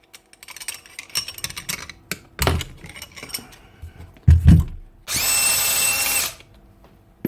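A Makita HR5212c rotary hammer runs without hammering: scattered clicks and knocks of handling, then a loud, steady motor whine for about a second near the end, heard alone.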